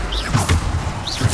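Bombarda spell cast in Hogwarts Legacy, a loud close burst of whooshing and thudding impact within a busy combat mix.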